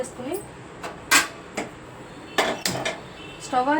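A kadai is set on the stove with a few sharp metallic clanks and clatters against the burner, close and distinct, between spoken narration.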